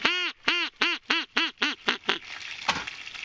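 A hunting duck call blown in a rapid descending series of about nine loud, close quacks, fading into rustling handling noise at the end.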